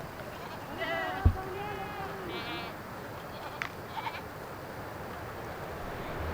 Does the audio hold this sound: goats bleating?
yes